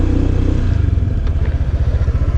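A Honda PCX scooter engine pulls away from a stop, a steady close motor drone with low rhythmic pulsing and a rising throttle note.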